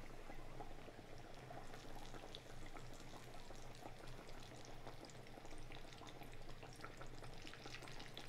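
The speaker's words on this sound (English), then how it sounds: "put in some catfish" Catfish frying Cajun style in hot oil, a steady dense crackle and bubbling sizzle filling the whole stretch at an even level, with no talking.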